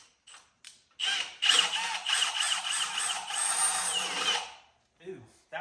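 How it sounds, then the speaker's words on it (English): A power drill bores a hole to fit an Autometer temperature gauge on a 1991 Kubota B7100 HST 4WD tractor, a close, loud whirring grind of about three and a half seconds with short ratchety bursts before and after. "let's drill through here"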